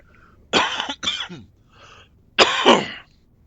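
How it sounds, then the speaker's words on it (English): A person clears their throat alone, with two quick rough bursts followed after a pause by a longer, harsher clearing, close and fairly loud against near silence. "I did just try to clear my throat"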